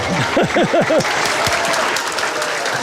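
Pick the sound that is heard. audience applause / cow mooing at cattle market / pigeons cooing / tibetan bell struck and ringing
audience applause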